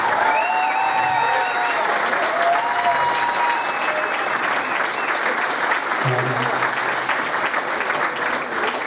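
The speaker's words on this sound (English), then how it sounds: "give me a round of applause" Loud, sustained audience applause at a high school jazz concert, with steady clapping filling the room for the whole stretch and a few voices mixed in.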